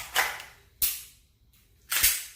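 Three sharp mechanical clicks from an unloaded pistol being dry fired, evenly spaced and close, each fading quickly into near silence.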